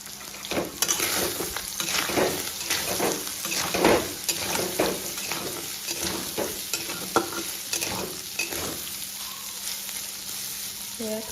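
Soybean chunks roasting in oil with turmeric in a kadhai for soya potato curry, a steady sizzle with repeated rhythmic scraping of a spoon against the pan, quieter near the end.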